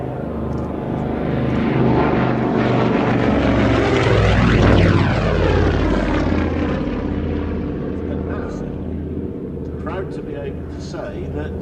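Propeller engines of a vintage Avro 19 twin-engine aircraft at the Shuttleworth Collection, Old Warden, droning loudly and swelling to a peak mid-pass before easing off as it moves away.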